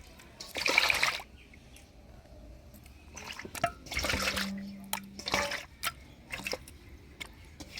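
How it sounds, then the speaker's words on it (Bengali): Rita fish is rinsed by hand with water in several separate bursts of splashing and sloshing, with quiet dripping and trickling in the pauses between them. "মাছ ধুয়ে নিলাম"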